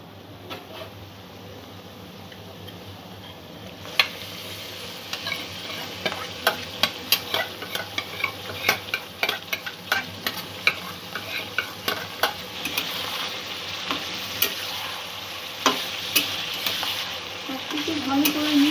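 Marinated chicken added to softened onions frying in a pan for a coconut milk chicken curry, heard as a loud, steady sizzle that rises after a few seconds, with repeated close clicks and scrapes of stirring.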